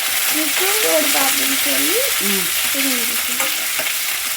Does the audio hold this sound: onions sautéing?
yes